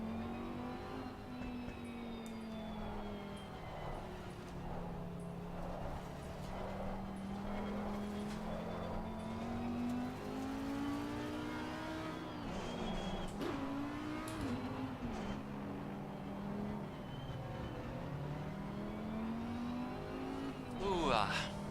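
Race cars, including a Ferrari, lapping Watkins Glen in a racing video game: a steady engine drone rises and falls through gear changes, with occasional tyre squeal. It stays fairly faint under ongoing talk.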